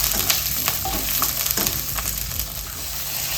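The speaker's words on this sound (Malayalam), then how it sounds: "പിന്നെ ഒരു 4 പച്ചമുളക് അതും ഇട്ട് കൊടുക്കാം. എല്ലാം ഒന്ന് വഴറ്റാം" Garlic, ginger and four green chillies sauté in hot oil in a pan for chicken curry, producing a steady close-up sizzle with occasional soft stirring scrapes and no talk.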